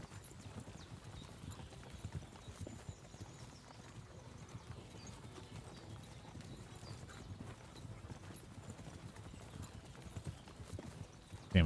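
Horse hooves clip-clop steadily along in Kingdom Come: Deliverance 2, a continuous quiet rhythmic trot under low game ambience, with a brief louder bump at the very end.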